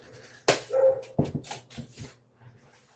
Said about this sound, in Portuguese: Bem agora o cachorro começar a latir lá pro gato do vizinho.